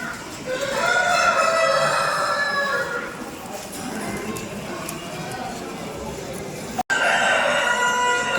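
A black rooster crows loudly and close, in long repeated calls, among other fowl, with people talking over and between the crows.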